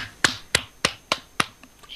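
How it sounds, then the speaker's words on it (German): A person claps hands five times in a slow, even rhythm, each clap sharp, close and isolated against quiet, with a faint trailing sound after. "Ich klatsche."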